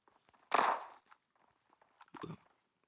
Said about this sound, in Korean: 여기 발자국 소리.